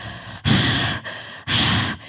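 A voice imitates hard crying with two long, loud gasping breaths of rushing air, each separated by a brief pause.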